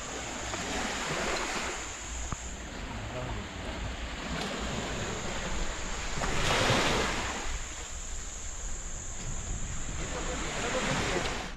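Ocean waves wash onto Bambolim beach in Goa at night, a broad continuous roar that swells and recedes, mixed with wind buffeting the microphone.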